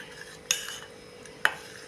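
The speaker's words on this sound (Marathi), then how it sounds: "हे आता पीठ मी एकजीव करून घेते." A spoon mixes dhokla batter made with water in a bowl, giving two sharp clinks against the container about a second apart over a quiet background.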